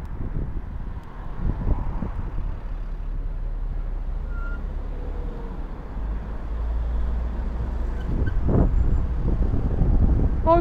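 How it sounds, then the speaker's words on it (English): An oncoming vehicle passes close on the road, its engine and tyre roar rising amid heavy wind buffeting on the microphone, swelling toward the end. "Oncoming vehicle, forced to stop, else you hit it."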